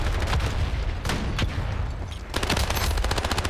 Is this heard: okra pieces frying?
no